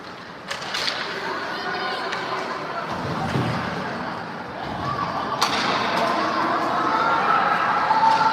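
Spectators at an under-13 youth ice hockey game shouting warnings from the stands, scattered calls and thuds over a low arena hum that swells toward the end.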